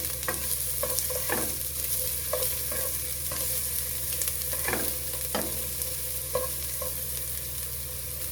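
Garlic and onion sauté in a pan for pork giniling with eggs, giving a steady close sizzle broken by repeated scraping stir strokes. No one speaks.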